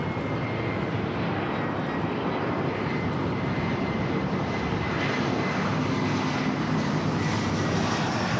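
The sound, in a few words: Air Tahiti Nui Dreamliner airliner engines at LAX airport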